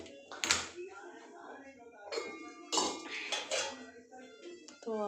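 A cooking pot set down among dishes in a home kitchen, a few sharp metallic clanks and clinks spaced across the moment, with a voice speaking between them.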